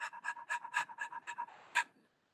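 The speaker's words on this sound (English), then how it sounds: "lately he starts to do a little bit panting" A young dog pants rapidly and steadily at close range, about eight quick breathy puffs in a regular rhythm before trailing off, with no other sounds.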